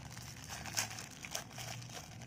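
A crinkly firecracker packet is opened during Diwali shopping, with soft, close crinkling and a couple of sharper rustles against a faint, quiet background.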